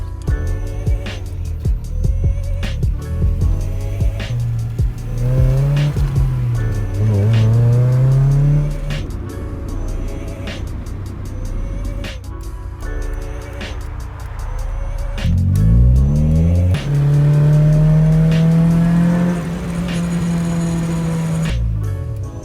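A Honda Integra Type R drives by with a close engine note that rises and falls through repeated revs and gear changes, loud and continuous throughout.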